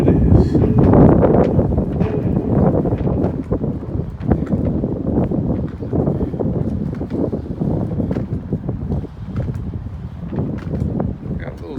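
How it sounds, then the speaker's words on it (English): Wind buffets the microphone outdoors on a New York City street in a steady, low rumbling roar that continues without a break the whole way through. "it's windy, so I know that y'all hearing that on the mic"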